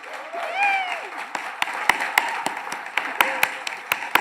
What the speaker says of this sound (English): That's your applause line.